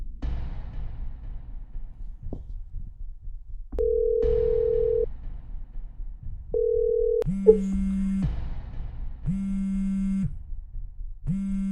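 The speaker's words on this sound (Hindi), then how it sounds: "ठीक है, मैं एक बार शिखा को और फोन करता हूँ।" A phone line plays repeated electronic tones, a higher beep followed by a series of lower buzzing ring tones at regular intervals, clear and close.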